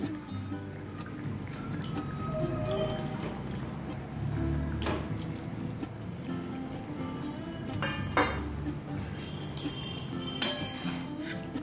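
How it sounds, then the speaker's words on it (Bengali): Fried fish pieces go into a pot of boiling broth, giving a soft, continuous bubbling sizzle with a few sharp clinks and drips, fairly quiet and without voices. "এটা ফুটে উঠেছে, এবার এতে দিয়ে দিচ্ছি ভাজা মাছগুলো"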